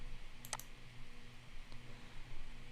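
A computer mouse gives a few faint, sparse clicks in a quiet room, with one sharper click standing out among soft taps.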